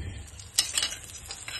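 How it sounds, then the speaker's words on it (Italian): Battered artichokes coated in flour and egg sizzle and crackle in a frying pan, with a couple of sharp utensil clinks against the pan near the middle. "Poi le mettiamo a friggere."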